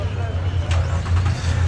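A twin-turbo car engine idles and rumbles nearby during Ocean City cruising week, a steady low drone under someone talking.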